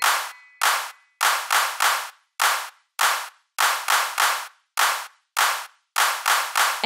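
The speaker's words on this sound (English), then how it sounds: "For the last one, just clap." Hands clap along to the children's song about a farmer's dog, sharp isolated claps landing in a steady rhythmic pattern of singles and pairs, crisp and close with no singing over them.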